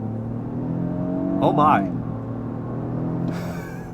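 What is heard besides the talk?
Lexus GX 550 accelerating onto highway in sport mode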